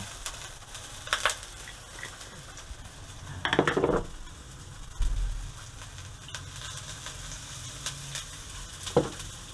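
Onion and garlic sautéing in a pan for sinigang bulalo, a soft steady sizzle with a few clinks and scrapes of a spoon against the pan, close and fairly quiet, no talking.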